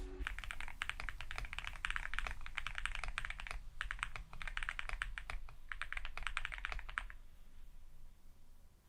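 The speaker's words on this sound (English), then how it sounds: "Let's give it a type test." Fast bursts of typing on a custom Hatsune Miku mechanical keyboard, dense clicking runs with short pauses between, close and fairly quiet, then stopping near the end.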